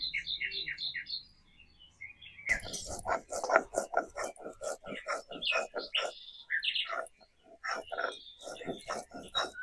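Birds chirp with quick high tweets at first, then a person talks at length over a few scattered chirps.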